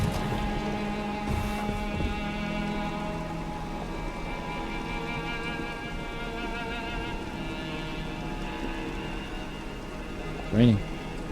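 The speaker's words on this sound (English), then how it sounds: "Raining." Rain falls in the video game Elden Ring as a soft, steady patter and hiss beneath low game ambience and hum, with a brief louder knock near the end.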